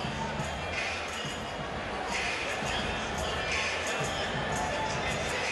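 A huge crowd at a Mike Tyson vs Danny Williams boxing match in Freedom Hall, Louisville, Kentucky, keeps up a dense, steady roar of murmuring and cheering throughout.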